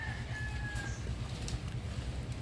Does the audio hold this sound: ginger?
no